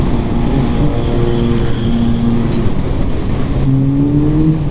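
Kawasaki H2 SX motorcycle engine droning steadily nearby in traffic among many other motorcycles, with a sustained loud hum and shifting engine tones rising toward the end.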